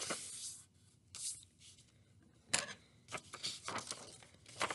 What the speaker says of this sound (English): I'm gonna fold it, and I'm gonna cut my wave out.